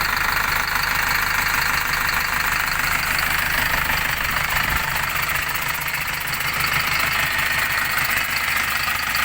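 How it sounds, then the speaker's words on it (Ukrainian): An MTZ 1025 tractor fitted with a replacement MAN D0834 engine runs steadily at idle, with a loud, continuous mechanical rumble and knocking that stays even throughout, with no talking. "Як цей мотор працює, як трактор з ним їде."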